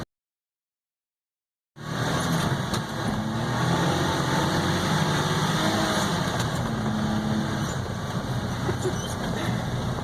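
A Suzuki Carry kei truck with a 660 cc, 60 horsepower engine driving in snow: after a brief silence, a steady, close engine drone with road and cabin rumble continues throughout, with no talk.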